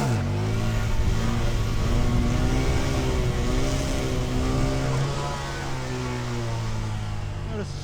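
A Honda Grom motorcycle running its stock exhaust, a close, steady engine drone that rises and falls in pitch as it revs and eases off, continuous throughout.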